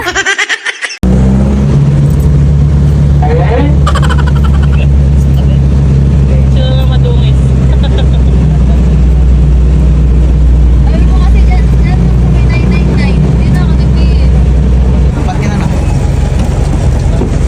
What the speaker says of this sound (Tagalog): Manong, please stop the jeepney.